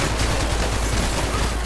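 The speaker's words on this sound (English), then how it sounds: "So they're shooting through the windows right here" Rapid gunfire from shooters firing through windows in a video game, a dense continuous fusillade of shots, loud and close throughout.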